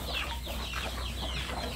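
Chickens in a fenced yard where many birds are kept, clucking softly and continuously in a low, busy murmur with no talk.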